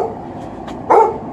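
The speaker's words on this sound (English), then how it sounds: "and of course TJ has to bark as usual." A dog, apparently a yellow lab, gives a single short bark near the end, fairly close and loud over a low steady background hum.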